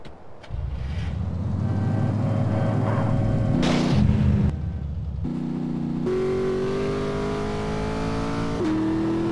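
A car in a GTA-style video game drives close by, its engine droning and revving loudly as the pitch steps up through gear changes, with a brief crash-like burst partway through.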